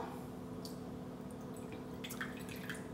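Water poured into a bowl on kitchen scales, a faint trickle with scattered small drips and splashes, quiet and close over a low background hum.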